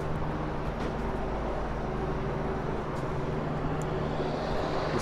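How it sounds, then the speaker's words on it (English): A steady, low helicopter drone hums continuously overhead in Cobble Hill, Brooklyn, a constant rumble with no breaks and no voices. "This helicopter is so annoying."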